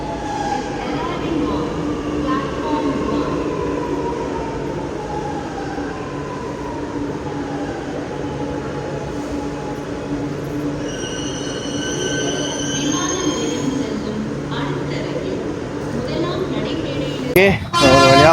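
Metro train pulling in, wheels squealing in long high whines over a steady rumble, growing louder toward the end with a sharp clank as it stops; a voice talks under it.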